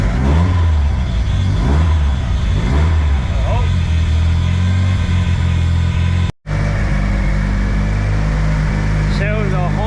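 A turbocharged car, just after an exhaust manifold repair, revs hard in repeated rising and falling bursts, then settles into a loud, steady engine drone after a brief cutout, close to the microphone.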